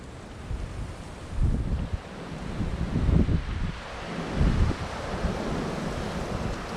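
Strong gusty wind buffets an outdoor fishing spot on a windy day. It makes a loud, continuous low roar that swells in several surges, with no voices.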